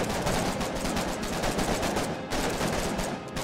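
Rapid automatic gunfire from a trench warfare battle in the video game Foxhole, dense overlapping bursts firing continuously and loudly throughout without pause.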